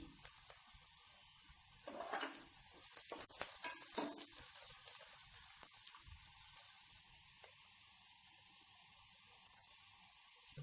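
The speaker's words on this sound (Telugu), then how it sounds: "ఆనియన్ బాగా ఫ్రై అయ్యేంత వరకు మూత పెట్టుకొని అలా ఉంచుదాము తొందరగా మగ్గిపోతాయి" Onions fry in a covered pan, giving a faint, steady sizzle and hiss with a few louder crackles early on and a brief clink, close but quiet throughout.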